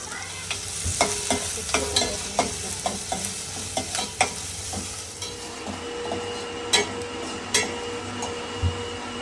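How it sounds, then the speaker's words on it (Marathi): Prawns frying in a spice tempering for a Malvani seafood dish, with a steady sizzle and repeated clinks of a spoon stirring the pan, close and continuous throughout. "प्रॉन्स करणार फोडणीला."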